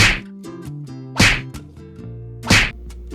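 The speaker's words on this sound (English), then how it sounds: "Type in the punching sound effects" Three sharp, punchy impact hits spaced about a second apart, each a loud smack with a quick whoosh, over a low thudding background.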